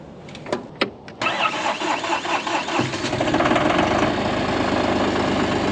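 A tractor engine cranks with a few clicks and starter whirs, catches, and settles into a loud, rough, steady idle close by.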